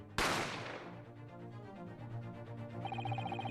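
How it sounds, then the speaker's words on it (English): A single sharp gunshot sound effect from the courtroom mystery game The Great Ace Attorney bursts out loud and sudden, then its ring decays under sustained tonal background music. "You heard the gunshot, you mean?"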